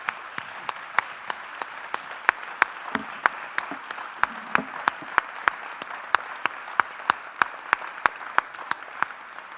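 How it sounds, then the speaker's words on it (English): Audience applause after a university lecture, broad sustained clapping from a seated crowd with a few sharper individual claps standing out, steady and fairly loud throughout. "join me in a warm round of applause for Art Ryan and Liz Flynn"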